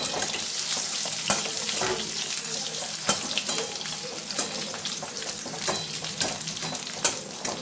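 Presoaked potatoes fry in a pan with green chillies, giving a dense, close sizzle broken by scraping stirs and small clinks throughout.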